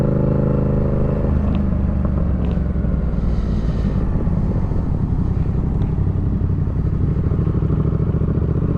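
A Suzuki GSX-R1000 motorcycle engine rumbles steadily at a car and bike meet, close and loud, a continuous deep drone with clattering traffic and other engines around it.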